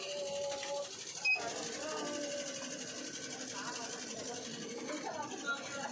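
An embroidery machine is switched on, giving a close mechanical whir with tonal hums and a brief click, while a person talks over it.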